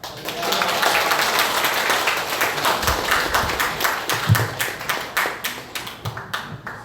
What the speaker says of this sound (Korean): 오늘 목사님께서 나오실 때 박수로 환영해 주시면 감사하겠습니다.